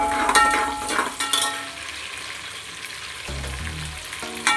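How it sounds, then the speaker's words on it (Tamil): Onions and green chillies sauté in a hot pan with a steady sizzle, broken by the scrape and clink of stirring, with heavier metallic knocks near the end. "வெங்காயம் நல்லா வதங்கும்."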